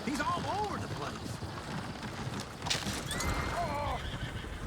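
Horses in Red Dead Redemption 2 whinny shrilly twice, with a rough clatter of hooves and game ambience running underneath.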